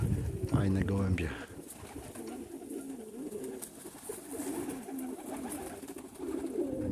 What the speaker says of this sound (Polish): Fajne gołębie.